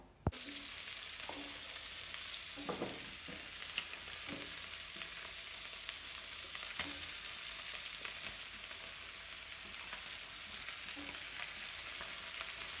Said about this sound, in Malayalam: നമ്മൾ നമ്മുടെ മാന്തൽ മീൻ കുറച്ച് നേരം മസാല പിടിപ്പിച്ച് വെച്ചിട്ടുണ്ട് ഇനി നമുക്കിതൊന്ന് പൊരിച്ചെടുക്കാം